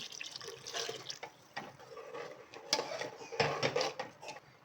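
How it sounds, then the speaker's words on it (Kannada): Water pours and splashes into a cooking pot for a few seconds, close by, about a glassful rinsed from a blender jar, with a few clinks and drips mixed in. "ಈಗ ಒಂದು ಗ್ಲಾಸಷ್ಟು ನೀರು ಹಾಕ್ಕೊಂಡಿದ್ದೀನಿ ಜಾರ್ ತೊಳೆಯೋಕ್ಕೆ ಅದು ಹಾಕ್ಕೊಳ್ತಾ ಇದ್ದೀನಿ"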